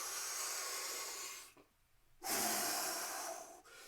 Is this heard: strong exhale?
yes